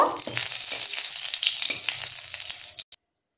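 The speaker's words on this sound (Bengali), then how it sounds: "এবার শুকনো লঙ্কাটাকে খুব সুন্দর করে আমি ভেজে নেব।" Four dried red chillies frying in oil in a wok: a loud, continuous crackling sizzle, close up, that stops suddenly with a final clink.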